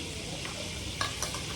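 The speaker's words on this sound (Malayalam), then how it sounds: "ചിക്കൻ അവിടെ ഇരുന്ന് മൊരിയുന്നുണ്ട്" Chicken frying in a pan with a steady, close sizzle and two brief clinks of a utensil near the end.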